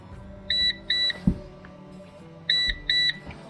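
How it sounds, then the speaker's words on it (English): A PowerShield PSCRT2000 line-interactive pure sinewave UPS sounds its battery disconnect alarm: two pairs of short, sharp electronic beeps about two seconds apart, clear over a quiet room hum. "Right, the alarm just triggered."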